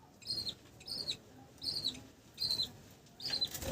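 A colony of budgerigars makes repeated short bursts of wing flapping and light chirps, about five quick flurries spaced evenly, close and fairly clear.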